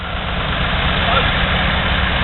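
A 1941 Model B four-stroke twin-cylinder tractor runs steadily at a tractor show, its low, continuous engine throb close and loud, with faint voices underneath.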